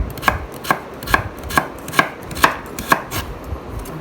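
Knife chopping vegetables into small cubes on a cutting board for chicken fried rice, a steady rhythm of about nine crisp close-up thuds evenly spaced with no talking.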